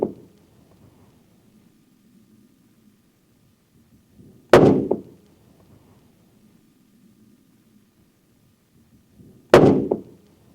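Two sharp, loud rifle shots from a CVA Cascade firing Hornady Whitetail loads, about five seconds apart, each a sudden crack with a short echoing tail over a quiet low background hum.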